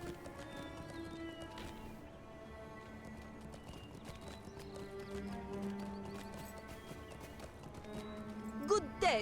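Horse hooves clip-clopping at a steady ride in Lord of the Rings Online, moving into Umbar, with a whinny near the end, set over game music and ambient background.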